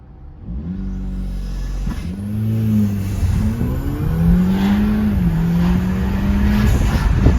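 A modified car engine revs up repeatedly in sport mode, its pitch climbing and dropping through several gear-like steps, loud and close with a growing roar.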